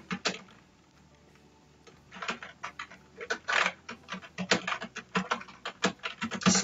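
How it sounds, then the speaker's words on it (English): Fingers type on a computer keyboard in irregular clusters of crisp, close key clicks, quiet at first and then denser, while text is entered in Microsoft Word. "type your school college's name here"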